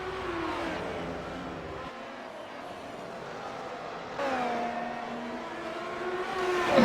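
A Formula 1 car in iRacing accelerates hard out of turn 1 at Watkins Glen, its engine note climbing steadily through the gears, with a shift partway through and a close, loud high-revving whine that builds toward the end.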